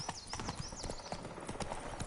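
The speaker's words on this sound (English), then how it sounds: "Oh, that's certainly a horse." Hooves of a galloping horse in The Witcher 3 video game beat in a quick, continuous clip-clop rhythm alongside whooshing game effects, close and fairly prominent.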